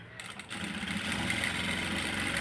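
A sewing machine running steadily as it stitches piping onto a garment's waistband, its fast even whir close and continuous, with no talk.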